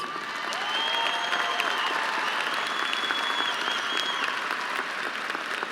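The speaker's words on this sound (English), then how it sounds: "please join me in a round of applause for these outstanding students" An audience applauding graduating students at a 2017 high school graduation ceremony, steady sustained clapping from a large crowd in a hall, with faint cheers and whistles mixed in.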